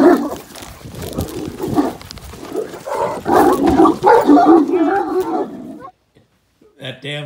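Great Danes and a Golden Retriever meeting for the first time give growly, roaring barks and rough vocal scuffling at close range, loud and mixed with people talking, then a brief pause and a final outburst.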